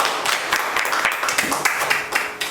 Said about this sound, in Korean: 박수도 힘차게 쳐주시기 바랍니다.